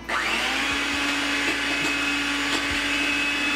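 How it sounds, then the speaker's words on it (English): Electric hand mixer whirring steadily through eggless chocolate cake batter made with white vinegar, a loud continuous motor drone that starts abruptly and holds without talk. "Now let's give a mixer."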